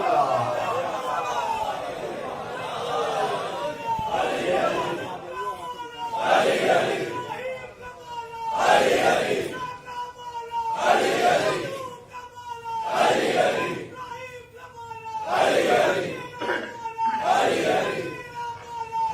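A crowd at a Shia majlis on the sixth night of Ramzan chants a religious slogan in loud, rhythmic unison, with a swelling shout roughly every two and a half seconds and voices filling the gaps between them.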